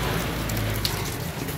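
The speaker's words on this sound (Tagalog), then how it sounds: "Umuulan." Steady rain falling, a dense continuous patter of drops on surfaces, close and fairly loud throughout, with no talking.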